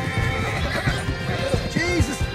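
A horse whinnies in Red Dead Redemption II, its neigh rising and falling over steady clip-clopping hooves and background game noise, fairly close and loud throughout.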